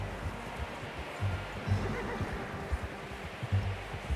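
Horse whinnying mixed with scattered hoof clops in the Red Dead Redemption 2 game, fairly soft and at middle distance, with irregular bursts across the clip.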